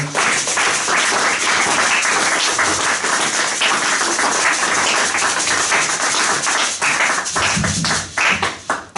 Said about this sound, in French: Est-ce qu'on peut acclamer très très très fort le Seigneur?